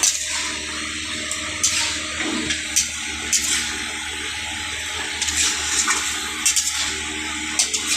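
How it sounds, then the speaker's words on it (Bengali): Water pours steadily into a pan of chicken being cooked down with spices, a continuous splashing rush running close by throughout, with a few brief clinks over it. "কষিয়ে নেওয়ার পর একটুখানি জল দিয়ে দেবো।"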